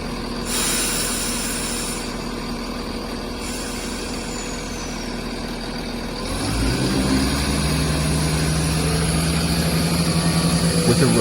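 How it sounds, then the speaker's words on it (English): A Class 170 diesel multiple-unit train's Cummins diesel engine running, a steady droning idle with a high whine, then revving up midway into a louder, deeper, sustained throb close by. "At the heart of the Class 170 is its powerful Cummins diesel engine."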